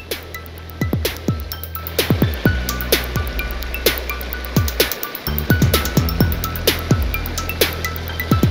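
A mountain brook flows along its ordinary bed just above a waterfall near a disused quarry, giving a steady close rush of water with repeated sharp clicking or tapping sounds layered over it.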